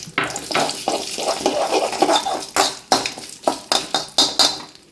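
Hot fried tempering with chilli is poured into thick kaalan curry and bursts into a loud close sizzle, followed by a rhythmic series of metallic spoon clinks and scrapes against the pot.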